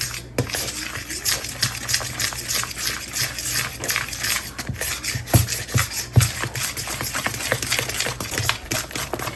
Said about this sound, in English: you can see I'm still stirring this with a fork because this will just come together super quick